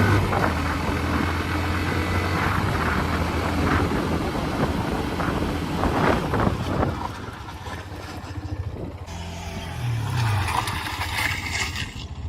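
A Hero Xtreme 125 motorcycle rides at about 60 km/h with steady engine and wind rumble, then brakes hard as the engine note drops, leaving a lower idle-like hum near the end.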